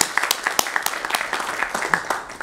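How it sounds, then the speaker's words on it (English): A lecture audience breaks into applause for the speaker, a dense, steady patter of many hands clapping at moderate loudness and sustained throughout. "Let's give him a round of applause."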